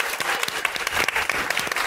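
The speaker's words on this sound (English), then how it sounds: "let's all give them a round of applause for the amazing job they did putting this together" A studio audience at a live podcast show breaks into dense, steady applause, many hands clapping at once with no gaps, loud and close throughout.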